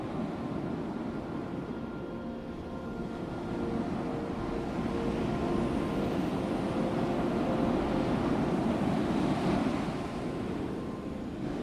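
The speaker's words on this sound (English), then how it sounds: "I listen to the waves." Ocean waves wash against a headland in a continuous, rumbling roar of surf that swells slightly louder toward the middle, mixed with wind buffeting the microphone and no voices.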